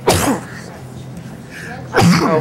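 Two sharp sneezes, one at the start and another near the end, close and loud, separated by a quiet stretch.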